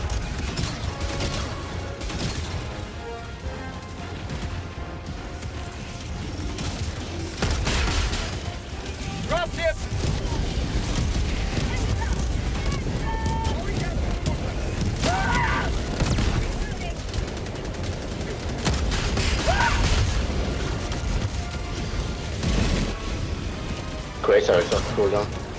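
Grenade explosions and bursts of automatic gunfire fill a chaotic fight in the shooter game Helldivers 2, with dense rattling fire and heavy booms continuing throughout under players talking to each other.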